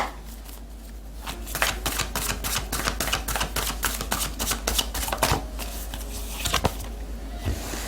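Tarot cards shuffled and laid out, a steady run of crisp riffling slaps and flicks close up, the card snaps repeating quickly for most of the clip with a few sharper placements near the end, with no talking.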